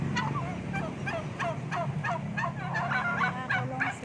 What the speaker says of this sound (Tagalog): Nagagalit yung pabo.